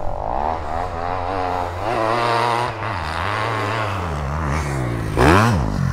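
Enduro motorcycle held at full throttle in third gear on wide-open dirt trails, a loud, close, steady high-revving engine drone with rising and falling pitch, briefly surging louder near the end.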